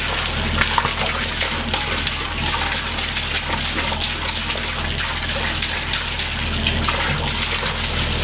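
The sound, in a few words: water from return line pouring into tank, aerating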